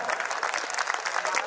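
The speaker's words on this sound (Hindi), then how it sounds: "ताली बजाओ सांस लेना है।" Audience applause at a Hindi hasya kavi sammelan (comic poetry recital) in Chhattisgarh: dense, continuous clapping from a crowd, steady and fairly loud throughout, with no voices over it.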